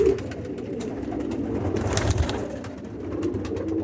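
Pigeons coo steadily inside a loft housing selectively bred birds, a low rolling murmur from several birds close by, continuous with no voices.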